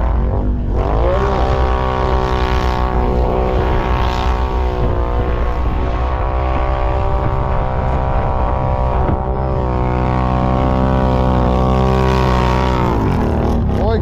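A Stels Guepard motorcycle engine runs loud and close at a gathering of these bikes, a steady throbbing drone with rising and falling revs throughout and no clear speech.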